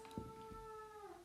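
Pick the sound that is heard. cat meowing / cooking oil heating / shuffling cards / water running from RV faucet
cat meowing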